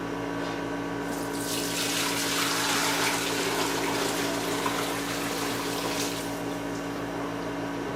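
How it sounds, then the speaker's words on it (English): Fish stock made from fish heads poured through a fine strainer, a steady continuous splashing rush of liquid that swells in the middle and runs on without pause, close and fairly loud over a low background hum. "Gonna put this stock through a fine screen."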